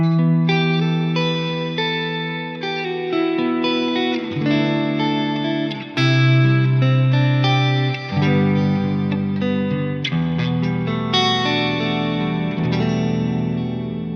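Guitar chords ringing through an always-on Immerse reverb pedal set to wet mode, mix and depth near one o'clock, giving a lush, continuous ambient wash with overlapping sustained harmonics and no gaps.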